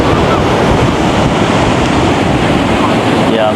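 Sea waves surge and wash continuously at Hawks Bay beach in Karachi, a loud, steady roar of surf mixed with gusting wind noise on the microphone and no clear talk.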